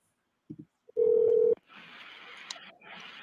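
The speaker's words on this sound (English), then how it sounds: "I'm going to get the police on the phone." A telephone dialing a call to police: a couple of short key tones, then a sustained steady tone before a hissy line noise takes over, close and clear with no talk.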